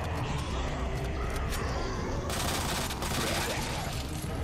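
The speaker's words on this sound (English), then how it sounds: "Forgot that I actually need to shoot you." Gunfire in the Resident Evil 2 (2019) game, a dense burst of rapid shots and impacts over loud, continuous background noise, with a brief voice mixed in.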